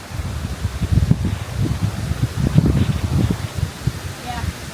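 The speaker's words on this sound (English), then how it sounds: "Stop! It's windy!" Wind gusts through the off-trail woods of central Florida, rustling leaves and buffeting the microphone in low, uneven rumbles, with faint voices nearby.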